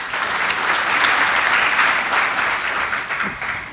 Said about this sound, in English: So, a little applause for those folks.